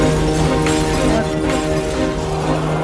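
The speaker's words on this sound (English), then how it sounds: "smashing those buildings down" Buildings being smashed down in a video game make a loud, continuous wall of crashing and rumbling destruction, with steady tonal game sounds mixed in.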